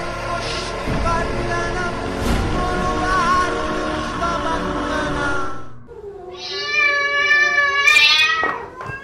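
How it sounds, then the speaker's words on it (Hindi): A cat meows as a loud, drawn-out wavering cry, heard on its own after a stretch of dense background noise, close and prominent. "जब तुम लोग यहाँ बैठे हो तो बिल्ली की आवाज कौन निकाल रहा है?"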